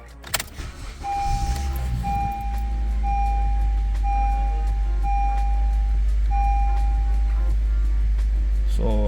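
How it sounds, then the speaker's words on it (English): A car starts up after an ABS sensor installation: keys jingle and the starter catches, then the engine settles into a steady idle while a warning chime beeps repeatedly inside the cabin. "we're gonna do the first startup after the installation of the ABS sensor"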